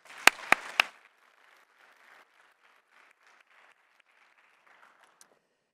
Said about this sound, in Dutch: Dank ik een groot applaus